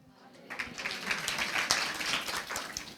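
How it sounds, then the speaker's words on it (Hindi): Congregation clapping during a Christian family sermon, a dense wash of hands in a church that builds after a quiet start and carries on steadily, with murmuring voices underneath. "ताली बड़ी जल्दी बजाते हो।"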